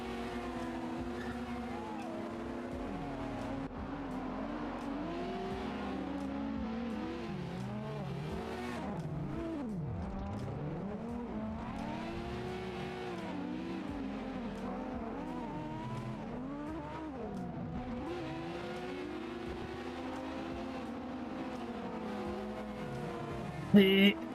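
A drifting car in the Assetto Corsa racing game, its engine revving up and down in long sweeping pitch bends with tire squeal throughout. The sound stays steady and continuous for the whole stretch.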